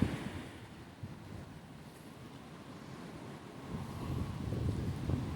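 High winds blowing outdoors, a steady low rushing roar that swells louder toward the end, with no voices.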